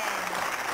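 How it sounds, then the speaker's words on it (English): Audience applause on a gameshow set, a steady dense patter of many hands clapping at once, fairly close and continuous for a brief moment with no voices over it. "Give a round of applause."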